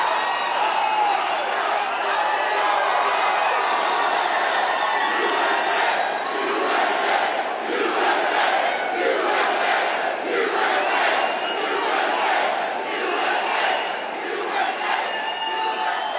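A large crowd at a Trump rally in Richmond, Virginia roars and cheers continuously, with rhythmic chanting bursts and whoops swelling in waves over a sustained wall of noise.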